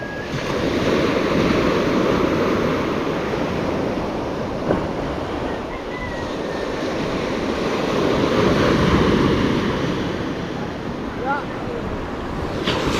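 Large ocean waves churn and break continuously at sea, a loud, close, wind-blown wash that never lets up, with voices faintly audible beneath it.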